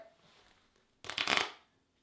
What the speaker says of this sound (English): now I can shuffle a deck of cards